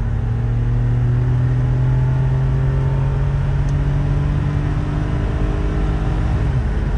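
A 1997 Nissan Stagea RSFour-V with its turbocharged RB25DET straight-six hums and rumbles steadily from inside the cabin while driving, its engine note rising smoothly through the revs with constant road noise underneath and no talking.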